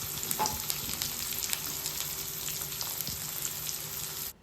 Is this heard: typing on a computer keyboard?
no